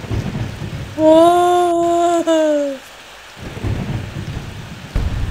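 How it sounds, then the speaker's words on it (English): Thunder and rain in the video game Plants vs. Zombies: a loud, sustained rumble swells for about two seconds over a steady rain hiss, then fades back into the downpour, with a brief exclamation from a player. "So there's a lightning effect to where I cannot see where I'm blazing?"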